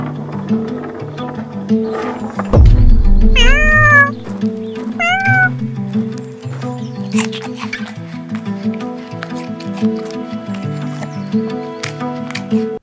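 Cats meowing, two clear rising-falling meows in quick succession near the start over a bed of light rhythmic background music, loud and close, with a heavy low thump beneath the first call.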